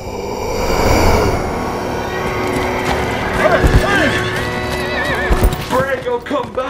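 Horses whinny and neigh several times as they are spooked amid a dense, noisy mix, with hoofbeats and clattering underneath and voices mixed in throughout.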